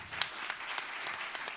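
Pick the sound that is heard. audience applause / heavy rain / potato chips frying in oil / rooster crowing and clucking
audience applause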